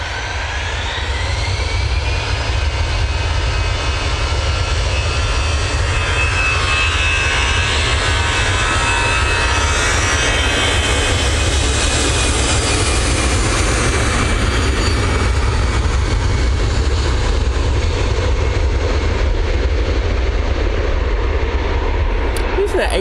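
An Airbus A380 at Manchester Airport roars past with a loud, sustained jet engine drone that swells and shifts in pitch as it passes, filling the whole stretch with broadband engine noise.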